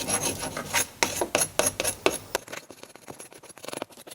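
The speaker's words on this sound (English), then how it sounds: "I take one of these with sandpaper, different grits, and you can just go over it like this" Sandpaper rubbed back and forth over a nephrite jade stone setting, a close, dry rasping in quick repeated strokes that grow lighter and faster toward the end.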